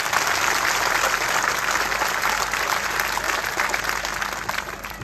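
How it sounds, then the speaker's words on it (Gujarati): An audience at a Gujarati village gathering bursts into dense, sustained clapping, loud and close, holding steady for several seconds before easing slightly at the end. "એકવાર જોરદાર તાળીઓ પાડો સાહેબ"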